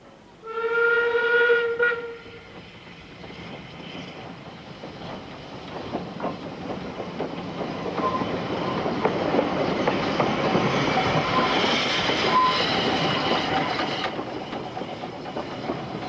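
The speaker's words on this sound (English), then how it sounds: "Trains cross here on the single line, and when they arrive there is bustle and activity." Ffestiniog Railway steam trains arrive at a single-line crossing point during the 1993 Hunslet Hundred steam festival, opening with a loud multi-tone whistle, then a sustained rumble of rolling stock and hissing steam that builds and holds.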